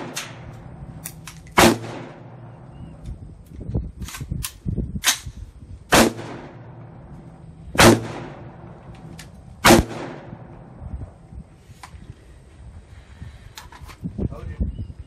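Rifle shots fired with soft-tip ammunition crack out loudly at close range, about six sharp reports spaced a few seconds apart, each with a short echo. People talk quietly in the gaps between shots.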